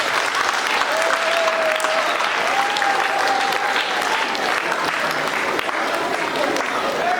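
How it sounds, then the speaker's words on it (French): Audience at a school ceremony consecrating peace ambassadors applauds after a pledge, a sustained, dense crowd clapping with a faint whistle-like tone drifting through and some voices underneath. "si on peut applaudir pour notre serment."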